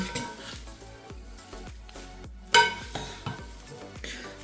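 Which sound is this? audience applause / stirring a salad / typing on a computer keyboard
stirring a salad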